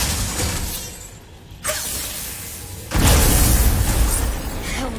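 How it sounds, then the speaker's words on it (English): Objects shatter in a video game: a dense, loud crash of breaking debris and bursts continues throughout, briefly easing before a heavier burst near the midpoint, with no talking over it. "I will never get tired of shattering things with this."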